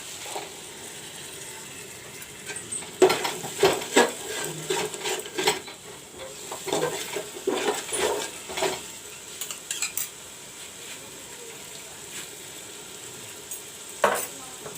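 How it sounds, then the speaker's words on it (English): Ginger and garlic frying in a pan for mutton curry, with a soft steady sizzle under repeated scraping and clinking of a utensil against the pan in irregular bursts. "The ginger garlic is fried a bit."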